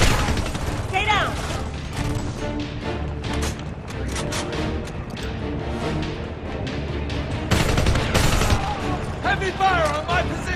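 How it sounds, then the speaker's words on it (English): Heavy gunfire in the Homefront shooter game, dense rattling bursts and booms rolling continuously through a chaotic firefight, mixed with shouted voices and battle noise. "Heavy fire on my position"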